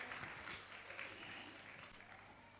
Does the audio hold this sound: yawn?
no